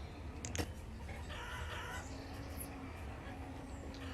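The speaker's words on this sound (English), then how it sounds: "Chickens." Chickens cluck and call faintly in a game setting, with a few short squawks over a steady background hiss and low rumble.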